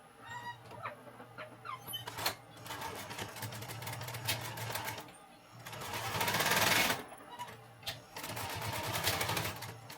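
A sewing machine stitches the seams of a simple homemade backpack in bursts of rapid mechanical whirring with short pauses between runs, close by, with a low hum underneath.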